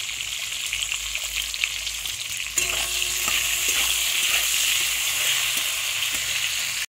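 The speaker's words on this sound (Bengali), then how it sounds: "পটলগুলো আগে একটু ভালো করে ভেজে নিতে হবে। সামান্য লবণ দিয়ে ভাজবো" Pointed gourd pieces fry in oil with a little salt, giving a steady close sizzle that grows fuller and louder partway through, with faint stirring scrapes and no talking.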